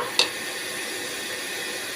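Garlic paste fries in a pan for a chicken curry cooked with bottle gourd, a steady close sizzle opened by one sharp spoon or spatula tap, with no talk.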